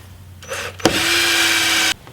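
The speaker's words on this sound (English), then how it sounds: "while I drill the rest of the holes" A power drill bores bolt holes for quarter panel armor on an off-road vehicle: a short whir, a sharp bite into the metal, then about a second of loud, steady drilling before it stops.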